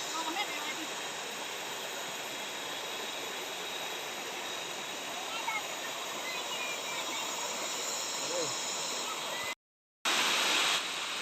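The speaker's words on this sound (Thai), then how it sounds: "ระหว่างทางเดินก็จะเป็น ลำธารนนะครับ ที่ไหลลงมาจากน้ำตก" A continuous rushing of a stream flowing down from Yong Waterfall in Thung Song, Nakhon Si Thammarat, steady and broadband, with a brief dropout near the end.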